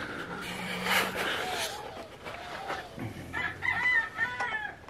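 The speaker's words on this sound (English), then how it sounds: "There's a chicken sitting on top of the bait egg there." Chickens in a coop with a bait egg, several hens clucking and a rooster crowing close by, calls overlapping in an irregular chorus with some quiet voice-like sounds underneath.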